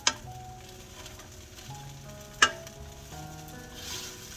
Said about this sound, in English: as you get them in your pan and they start frying.